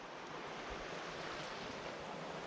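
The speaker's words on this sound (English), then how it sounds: "creek's flowing, ain't it?" A creek rushes along steadily after a flash flood, its broad, even roar of churning water close and constant, with no voices over it.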